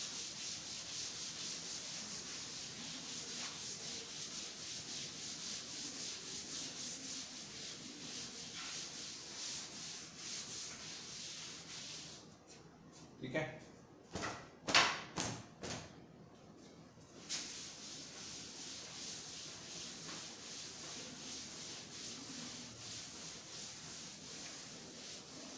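A duster rubs writing off a classroom board during a biology lesson: a long run of soft, steady scrubbing strokes, broken midway by a few sharper knocks and scrapes.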